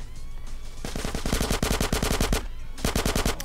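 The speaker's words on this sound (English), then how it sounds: "let me switch over to this gun instead." Bursts of automatic gunfire from GTA San Andreas, a rapid rattling stream of shots that cuts off briefly and resumes, loud and close against a low game background.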